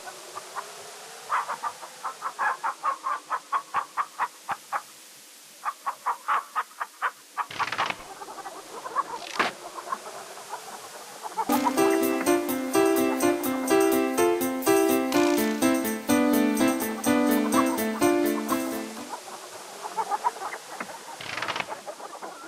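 Chicken clucking in the King's Quest III Redux adventure game, rapid rhythmic clucks repeating in bursts, followed by a louder stretch where busy game music plays over the sounds, with no talking.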